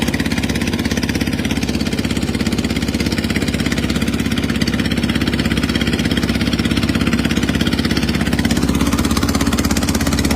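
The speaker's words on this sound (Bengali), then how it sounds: "তিনি নিজেই ট্রলার চালিয়ে যাচ্ছেন।" Trawler boat engine running while crossing a wide river, a steady, loud mechanical drone with a fast even chug that holds constant for the whole stretch, no voices.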